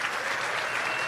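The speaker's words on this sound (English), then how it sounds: "Come on, give me some applause." An audience at a groundbreaking ceremony for a bullet train to Las Vegas claps, a dense, even wash of many hands, loud and sustained throughout without a break.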